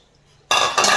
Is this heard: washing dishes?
yes